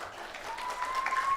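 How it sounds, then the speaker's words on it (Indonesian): Children of the older Sunday school class clap together at a Christmas church gathering, a fairly soft, steady wash of applause with a faint tone running through it. "tepuk tangan dulu yang kelas besar"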